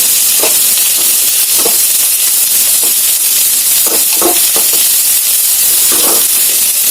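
Curry leaves sizzle in hot oil for upma, a loud steady broadband hiss with a few brief stirring scrapes on top, close and continuous.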